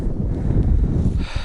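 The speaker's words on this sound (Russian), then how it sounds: "Ветер, правда, мощный." Strong wind buffeting the microphone on a high riverbank during spring flood, a steady low rumbling roar with no other sounds over it.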